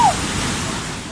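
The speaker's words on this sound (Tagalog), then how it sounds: "Hindi yan ilog, kundi highway na nilamon ng Romaraga sa baha sa Kamiling Tarlac kaninang umaga" Rushing floodwater pouring over a highway in Kamiling, Tarlac, a steady, loud broadband roar of churning water that fills the short stretch without a break.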